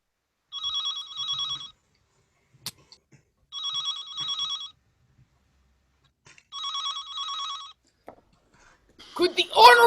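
A telephone bell rings in three separate double-trill bursts with short silences between them. A sharp knock falls in one of the gaps, and a rustling noise comes in at the very end.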